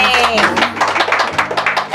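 Scattered clapping from a crowd at a Cantonese wedding tea ceremony, quick irregular claps over ongoing talk and background music.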